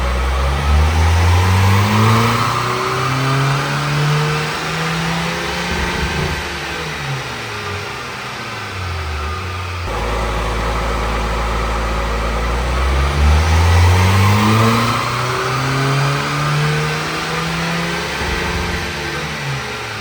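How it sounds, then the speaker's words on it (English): A VW Caddy with a BLS PD105 diesel under a PD130 conversion revs up and down repeatedly in two long sweeps, its loud engine note rising and falling close by with a steady whine under it, no talking. "I think it's the alternator noise."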